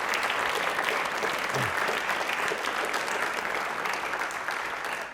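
Audience applause on a Rajasthani television quiz show, a dense sustained burst of clapping from a studio crowd, loud and steady throughout before easing slightly at the end.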